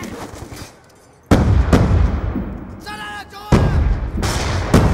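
Bouncing Betty mine going off in a video game: two loud, sharp bursts, each followed by a rumbling tail, with a quieter stretch between them.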